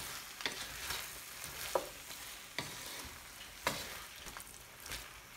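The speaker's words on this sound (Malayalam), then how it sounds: "ഇനി ആ ഗ്രേവിയുമായിട്ട് ആ കോളിഫ്ലവർ എല്ലാം നന്നായി ഒന്ന് മിക്സ് ചെയ്തെടുക്കണം" Fried cauliflower is stirred into gravy for gobi manchurian, a low steady sizzle under a few sharp spoon scrapes and clacks against the pan, spaced about a second apart.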